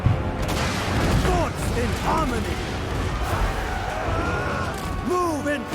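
Heavy booming cannon blasts and explosions rumble continuously during a fortress siege battle in Total War: Warhammer III, with whooshing tonal sweeps of game effects throughout, loud and dense.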